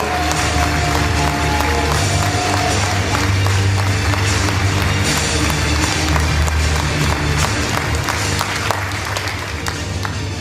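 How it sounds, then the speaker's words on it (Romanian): Audience at an outdoor campaign rally in Pecica applauding, a dense continuous wash of clapping and crowd noise sustained for about ten seconds over a low musical hum. "Haideți să-l aplaudăm pe domnul ministru."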